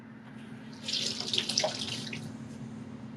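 Water drains and trickles from a sheet of pressed paper pulp made from recycled old sketchbook paper during handmade papermaking, a close splashing run that swells for about a second and then tapers off over a low steady hum.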